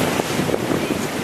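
Sea waves splash against a cruise ship in the middle of the Caribbean in strong wind, a continuous loud rush of water with buffeting wind noise and no talk.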